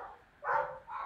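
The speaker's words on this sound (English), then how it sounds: "can you hear the dogs barking?" Two short, bright barks from a dog a little way off, in quick succession with a brief pause between them.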